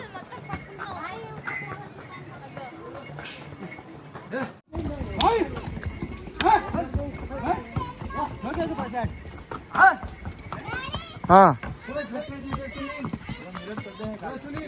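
Horse hooves clip-clop steadily during a ride on the way to Yamunotri, with occasional whinnies and speech and laughter over the rhythmic steps throughout.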